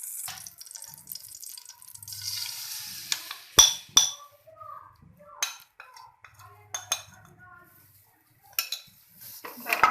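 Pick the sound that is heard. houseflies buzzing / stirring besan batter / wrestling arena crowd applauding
stirring besan batter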